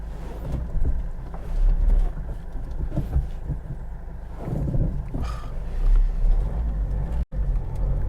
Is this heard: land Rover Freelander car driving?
yes